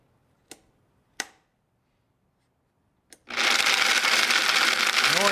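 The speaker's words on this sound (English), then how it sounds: "putting them in the Vitamix." A Vitamix blender kicks on to grind almonds into flour, starting with a few sharp clicks and taps before the motor roars up into a loud, steady whirring grind that holds to the end.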